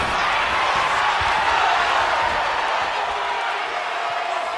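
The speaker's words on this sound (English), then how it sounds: "The WWE Universe is showing their appreciation for the action they're seeing." A wrestling arena crowd cheering and applauding, a dense, steady roar of many voices and claps sustained at high volume, with a commentator's voice faintly over it.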